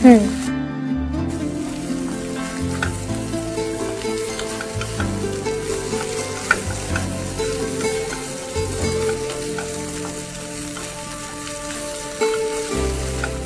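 Capsicum strips roasting in a pan for a paneer veggie roll, a steady moderate sizzle running under someone talking.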